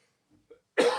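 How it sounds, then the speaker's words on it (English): After a couple of faint throat noises, one loud, close cough bursts out abruptly and rasps to the end. "the coughing's going to be kept in"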